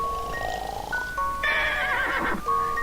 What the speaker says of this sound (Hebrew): מה זה נשמע כמו סוס?